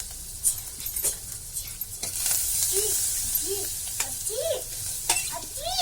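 Cloves, black peppercorns, garlic slices, ginger, bay leaf and cinnamon pieces sizzle steadily in hot oil for a creamy restaurant-style soup, a continuous close crackle with stirring scrapes and a few clinks.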